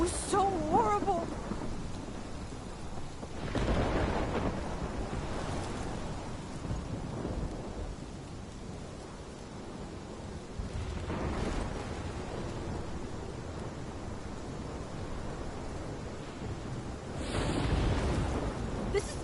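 A video-game thunderstorm has heavy rain hissing steadily while several deep thunder rumbles roll through at intervals, each swelling and fading against the constant downpour.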